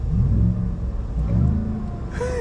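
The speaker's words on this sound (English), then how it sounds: "let's give ourselves one little rev before we take off." A supercharged 2021 Shelby F-150 pickup revs once at idle: a deep, close engine rumble that swells briefly, with a rising whine near the end.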